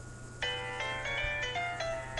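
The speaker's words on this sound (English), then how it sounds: "this is the best freaking ringtone ever" A phone ringtone plays a bright, bell-like electronic melody of repeated tonal notes, starting abruptly and continuing steadily at moderate loudness with no talk over it.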